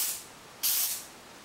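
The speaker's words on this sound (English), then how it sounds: "because it's an aerosol, it just sprays" Two short hissing bursts of an aerosol spray, a faint one at first, then a louder, closer spray that tapers off.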